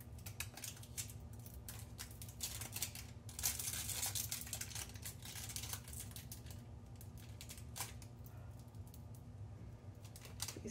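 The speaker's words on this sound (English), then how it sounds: "Then, of course, you gotta, unwrap your candy cane." Quiet crinkling and tearing of a plastic wrapper being pulled off a candy cane, a run of small irregular crackles over a low steady background hum.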